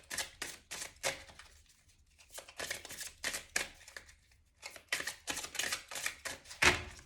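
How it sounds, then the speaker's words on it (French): Tarot cards handled and shuffled before one is drawn from the deck, a soft close series of quick papery flicks and riffles in short bursts, quiet with no talking. "je vais prendre une carte du cœur, justement, pour avoir un message pour les Verseaux"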